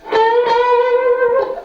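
An electric guitar played with two pickups together: a short picked note sliding into a sustained, loud, harmonically rich held note with slight distortion, heard alone.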